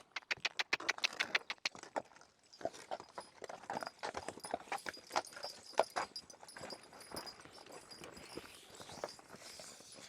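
Horse hooves clip-clopping steadily as a team hitched three abreast walks during field work, with many overlapping close hoof strikes and no talking.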